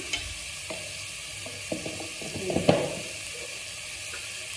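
A pan of salted food hisses steadily as a spoon stirs, with a brief cluster of clattering scrapes midway, then settles back to a quieter sizzle; nobody speaks.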